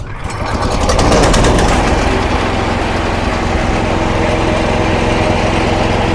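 A Senci road cutter engine fires up and settles into a loud, steady, close-up running drone with a buzzing, high-revving tone and no talking.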